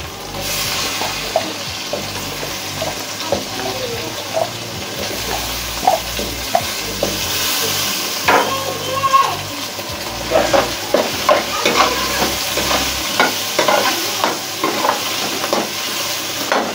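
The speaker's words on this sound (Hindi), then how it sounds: "पाँच मिनट तक आलू को इस तरह से बनाएं, इस तरह से चलाते रहें 5 मिनट।" Potatoes fry in a pan for aloo palak while a spoon stirs them steadily, repeated scraping clatters over a constant loud sizzle.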